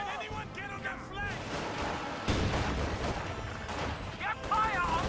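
Video game battle with bursts of gunfire and artillery-like booms under continuous shouted voice lines, the firing dense and fairly distant beneath the speech.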